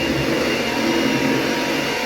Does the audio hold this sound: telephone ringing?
no